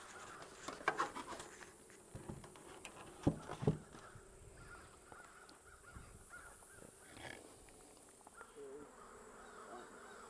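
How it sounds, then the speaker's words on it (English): A steady, dense buzzing of many honeybees in a full hive box fills the air close by, with a few louder knocks and a crow calling faintly in the distance. "this is a really full box of bees"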